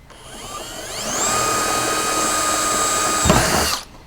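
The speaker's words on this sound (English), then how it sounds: "Drill your hole." A power drill bores a hole through a metal footwell skid plate on a Polaris RZR, the motor whining up to a steady high pitch, then a brief grinding bite as the bit breaks through before it stops.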